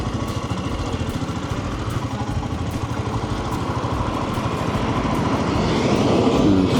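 Motorcycle riding through Maple Valley, Washington on a spring day, the engine a steady close rumbling drone that swells slightly as it goes, with wind noise and no talking.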